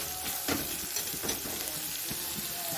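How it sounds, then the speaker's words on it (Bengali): Ground cumin and spices sautéed in oil in a pan, a steady soft sizzle with occasional stirring scrapes, close and moderately quiet with no talk. "মশলাটা ভালোভাবে কষিয়ে নেব"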